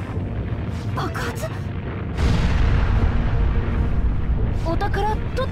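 Aboard a cruise ship in Persona 5 Royal, an explosion lands as a sudden heavy boom midway, swelling into a loud, sustained low rumble, with game voices and chiming effects layered over it.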